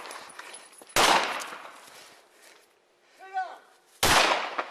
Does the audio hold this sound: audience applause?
no